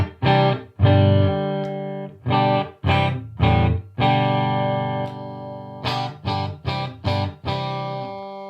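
A custom-built Phoenix Rising electric guitar on its middle pickup position plays clean chord stabs in a loose rhythm, some short and choppy, others ringing out, separated by brief silences.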